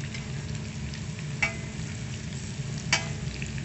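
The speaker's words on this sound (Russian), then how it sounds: "Картошечку помешали с мяском." Potatoes, meat and mushrooms sizzle quietly in a homemade saj pan with a constant low crackle, broken by two brief scraping stirs of a utensil.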